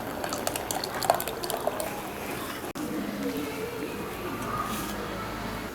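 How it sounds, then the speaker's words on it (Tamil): Tamarind water pours and splashes into a pot, a steady watery trickle at close range, with talking over it. "அந்த புளி தண்ணியை இதில் சேர்த்துக்கலாம்."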